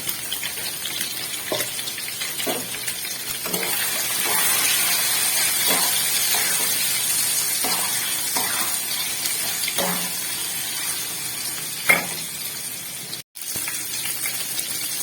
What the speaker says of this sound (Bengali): পনিরগুলো আমি হালকা করে ভেজে নেবো